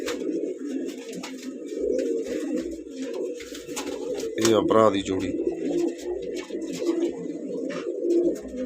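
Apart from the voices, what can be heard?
pigeons cooing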